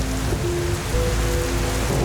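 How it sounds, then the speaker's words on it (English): Heavy rain pours outside in a steady, dense hiss with no break. A low hum runs faintly underneath. "Outside, the rain was heavy."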